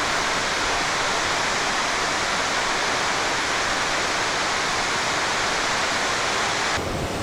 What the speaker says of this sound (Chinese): 所以叫壶口瀑布